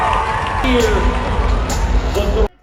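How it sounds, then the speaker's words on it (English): A large rodeo crowd in Houston cheers and whoops loudly in a dense, continuous roar, with a voice talking over the noise before it cuts off abruptly. "Every time the winner is announced, the crowd just goes wild and there is cheering and hooting all around."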